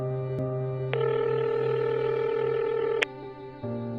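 Telephone keypad tones sound over a steady dial tone, with one short beep, then a long sustained tone, then a brief gap before the dial tone returns. No voices are heard.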